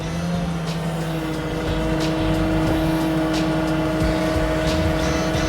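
A truck engine runs steadily while a load is raised, holding a constant droning hum with a faint whine and occasional clanks, fairly close and loud without speech.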